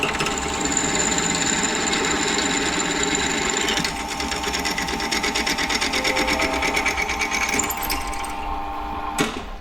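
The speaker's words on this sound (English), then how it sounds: "Drill going." A power drill bores holes in metal for Bobcat axles, a continuous steady whirring grind that runs without a break, close and loud, ending in a brief sharp clunk.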